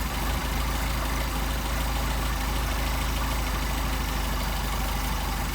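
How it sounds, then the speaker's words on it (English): A Mercedes 190SL with Solex carburetors idles while the idle mixture screw is adjusted, a steady, close, loud engine drone with a constant low rumble. "I'm going to screw this in until the engine stumbles and screw it back out."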